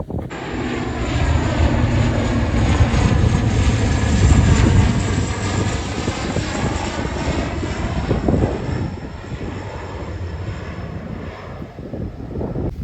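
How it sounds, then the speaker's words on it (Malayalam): An airplane flies overhead near Bangalore airport, a loud, sustained engine roar that swells to a peak around the middle and then eases off slightly while staying close and continuous, with no talking. "ഒരു ദിവസം അറുന്നൂറോളം മുകളിൽ ഫ്ലൈറ്റ് ഇവിടെ ലാൻഡ് ആവുന്നുണ്ട് ഈ ഒരു എയർപോർട്ടിൽ"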